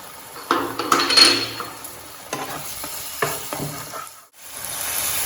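Prepared paste and water are poured into a hot pan of prawn malai curry and stirred; a spoon scrapes and clatters against the metal while the liquid sizzles, with a brief hush before the frying resumes.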